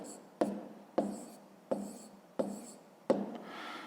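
A pen scratches out handwritten numbers on paper for a fifth-grade math exercise, five quick strokes in a regular rhythm, each starting with a sharp tap and fading, close and fairly quiet.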